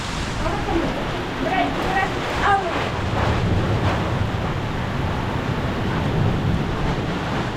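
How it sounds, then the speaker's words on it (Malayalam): Strong wind roars with a steady wash of heavy rain, loud and continuous, while a voice briefly speaks underneath early on. "വല്ലാത്ത കാറ്റാണ് വീഴുന്നത് നോക്ക് കാറ്റ് നോക്ക്"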